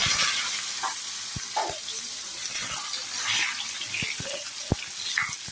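Cut potatoes go into hot oil already spiced with bay leaf, dried chillies, whole garam masala and cumin, setting off a close, continuous sizzle and bubbling with a few sharp clicks and knocks, no speech.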